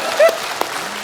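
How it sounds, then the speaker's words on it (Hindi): A television studio audience claps briefly in a short burst of applause, with a voice speaking over it. "बेताले लोग, तालियां रिदम में होनी चाहिए"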